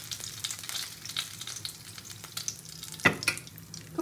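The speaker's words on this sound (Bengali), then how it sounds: "এবার শিমে মাছগুলো ভালো করে ভেজে নেবো" Aar fish pieces sizzle and crackle steadily in hot oil in a kadai while being fried for a Bengali basanti curry, with a brief clatter of stirring near the end.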